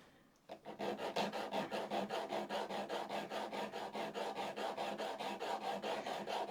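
A steel cross grain nicker blade rasps rhythmically back and forth on a 240 grit diamond stone, each close, quiet stroke repeating evenly after a brief start.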